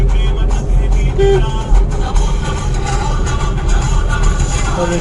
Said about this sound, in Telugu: చాలా ట్రాఫిక్ ఉంది